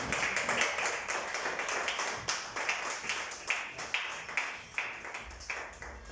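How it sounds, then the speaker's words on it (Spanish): A church congregation at an evening Bible study claps, the sharp, fairly rhythmic hand claps sounding moderately quiet and spread across the room. "Denle un fuerte aplauso a nuestro Dios en esta noche"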